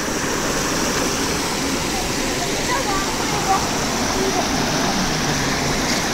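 Water rushes continuously at Fairy Falls in Kodaikanal, a broad, steady hiss of flow that stays constant and close throughout.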